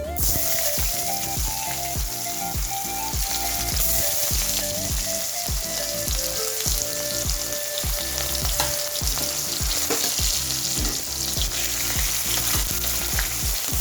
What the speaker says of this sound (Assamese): এতিয়া ইয়াতে পিঁয়াজখিনি দি দিম।